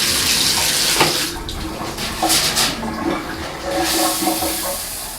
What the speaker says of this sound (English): run the water through the filter to make sure it's clean